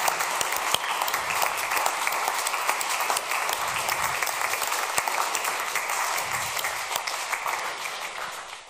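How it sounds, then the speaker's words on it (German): Sustained audience applause at the CaNoKo 2024 Hanf-Adler award ceremony, dense continuous clapping filling the room at steady loudness for the whole stretch, easing off slightly at the end. "für Rückgrat, den zweiten Applaus bitte"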